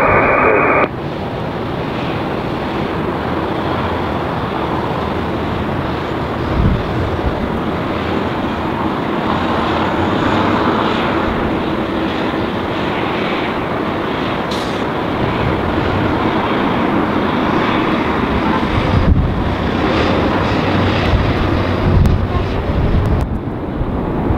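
An Airbus jet airliner landing on runway 24 right at LAX in Los Angeles, a steady broad roar that holds at constant loudness throughout, mixed with wind buffeting on the microphone and no speech.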